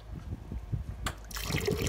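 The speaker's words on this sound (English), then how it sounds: "it will dispense in 2 amounts 500 mils each portion" A Förster-Technik calf feeder dispenses liquid during calibration, giving a steady close trickle and splash that grows fuller toward the end of the short stretch, with no talk.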